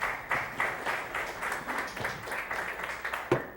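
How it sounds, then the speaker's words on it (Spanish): Moderate audience applause at a roast event, even clapping carrying on steadily for a few seconds at fairly low level, with no voices. "Un fuerte aplauso, por favor, para Leonardo Núñez."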